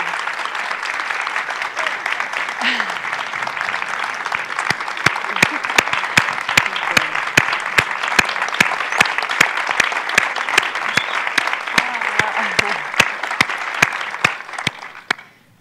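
A women's college leadership salon audience applauds steadily for the full length, a dense wash of many hands with sharper individual claps standing out toward the end, building and holding before tapering off.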